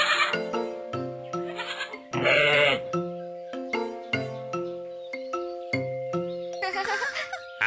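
A cartoon baby goat bleats repeatedly in short, high, musical calls, with a chime-like note and brief bursts of sound between the bleats; no speech.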